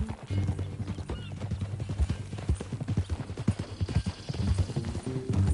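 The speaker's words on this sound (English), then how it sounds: "That a new horse?" Horse hooves clip-clop steadily in Red Dead Redemption 2 gameplay, a continuous rhythmic trot that stays loud and close over a low rumble, with no talk.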